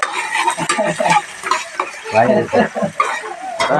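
Loud sizzling of onions frying in hot oil, with a utensil stirring and scraping against the pan in uneven bursts close by.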